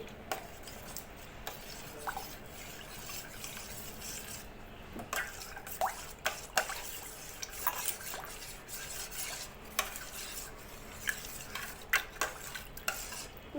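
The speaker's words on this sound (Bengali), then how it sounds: "পুরোটা দিয়ে দিলাম মিশিয়ে নিচ্ছি" Sago stirred into water in a pot, with a soft, continuous swishing and scraping of a spoon, quiet and close, broken by occasional sharper clinks against the pot's side, and no voices.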